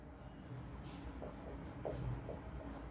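A pen scratches on paper during a class 10 trigonometry lesson, soft and close, in short strokes over a steady low background hum.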